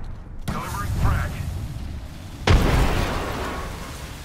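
A frag grenade explodes in the video game Apex Legends, with a sharp burst followed by a second, heavier blast that rumbles and fades, and game speech and sounds underneath.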